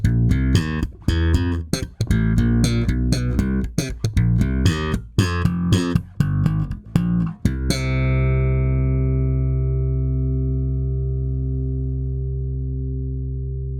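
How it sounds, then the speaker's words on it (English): Bright, punchy slap bass notes from a Spector Euro 4 LT bass guitar pop in a quick rhythm, then one low note rings out and sustains, slowly fading. "The slap style tones on this bass are nice and pingy."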